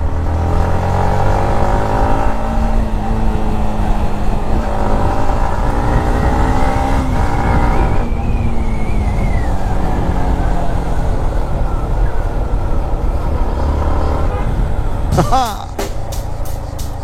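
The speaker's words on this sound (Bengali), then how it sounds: "আচ্ছা বাইকের সাউন্ডই তো শোনায় নেই। আচ্ছা একটু সাউন্ড শুনুন" A Yamaha MT15 motorcycle engine runs close and loud, revving up and down in rising and falling sweeps for a long stretch before cutting to a lower steady note.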